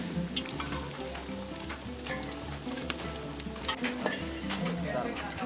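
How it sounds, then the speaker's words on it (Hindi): Kashmiri chili tempered in boiling ghee for a Kashmiri haak dish, a soft steady sizzle and crackle of frying, fairly faint, with a voice speaking over it. "फिर वाजे ने खौलते हुए घी में कश्मीरी मिर्च से तड़का लगाकर ये हाक तैयार कर दिया।"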